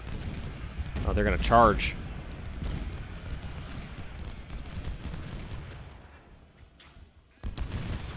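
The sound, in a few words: gunfire in the video game Ultimate General: Civil War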